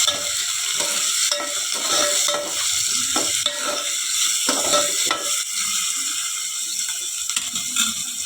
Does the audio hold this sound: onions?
yes